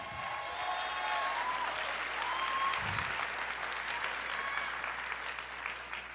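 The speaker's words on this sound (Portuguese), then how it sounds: "Diga para a pessoa, te aplauda" A church congregation applauds together, a steady, dense wash of clapping from a large crowd that holds at full strength throughout, with a few faint voices mixed in.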